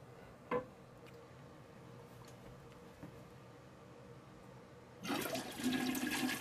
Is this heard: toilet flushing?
yes